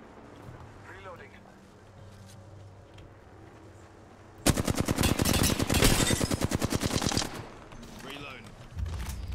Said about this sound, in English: Jagger's shooting at me.